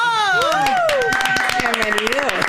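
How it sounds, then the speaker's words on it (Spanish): A studio audience claps for two young Cuban performers while voices carry on loudly over the top, the scattered clapping running through the whole stretch beneath the talk. "Un aplauso, producción"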